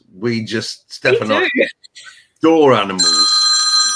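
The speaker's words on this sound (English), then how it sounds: "Oh, that's my phone going." A mobile phone rings with a bright, steady electronic tone near the end, starting just after people talk casually at an indoor coffee morning chat.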